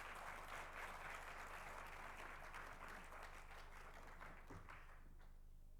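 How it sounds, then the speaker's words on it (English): Audience applause welcoming a speaker at a talk on piety and patriotism, steady clapping from a crowd that holds for about four seconds and then begins to thin out and fade. "please give a round of applause"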